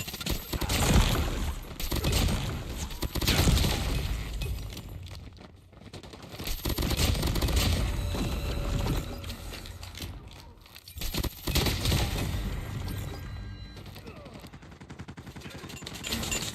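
Rapid gunfire bursts in Call of Duty Mobile, loud and dense, with crackling shots broken by short gaps where a quick reload clatters, continuing for most of the stretch alongside game effects.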